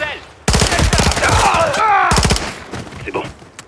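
Burst of rapid gunfire in the video game Call of Duty Modern Warfare, loud and close, with repeated shots over a couple of seconds that fade into quieter echoes and a distant voice near the end.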